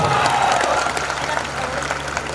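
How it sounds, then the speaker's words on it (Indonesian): Audience at an evangelistic revival meeting in Tana Toraja breaks into loud, sustained applause that fills the hall without a pause, with a few faint cheers mixed in. "Kasih tepuk tangan dia meriah buat Tuhan."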